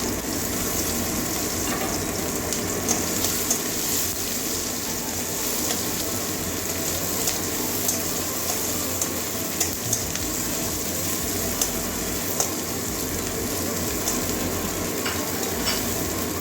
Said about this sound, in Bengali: পেঁয়াজটা ভেজে নেবো কাঁচা গন্ধ যাওয়া পর্যন্ত